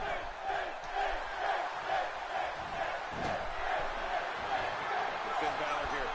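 A sold-out video game wrestling crowd cheers and roars in a dense, sustained wash of noise, with commentators talking over it and occasional thuds from the ring.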